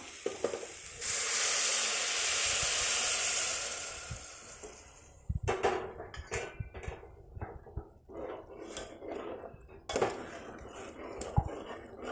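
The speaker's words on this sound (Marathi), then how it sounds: "तवा हे गरम पाणी टाकायचं आहे आपल्याला" Hot water poured into a pan of soya chunk curry on the stove, giving a loud steady sizzle and hiss for several seconds that fades, followed by irregular stirring and scraping knocks in the pan.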